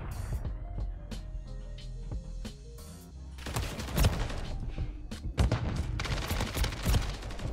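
FJX Horus SMG fire in Call of Duty MW3 comes as rapid, loud automatic bursts after a quieter stretch of scattered shots and thuds, close and punchy, with several sustained strings of fire.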